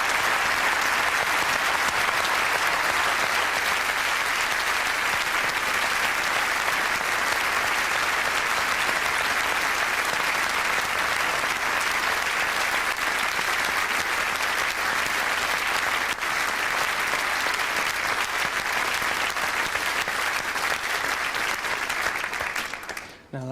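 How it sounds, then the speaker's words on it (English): A large studio audience at a 2003 sports awards show applauds England's World Cup winning rugby team, sustained thunderous clapping from a big crowd that holds evenly for over twenty seconds before cutting off. "Your applause once again for the World Cup winners, the world champions, Coach of the Year and Team of the Year."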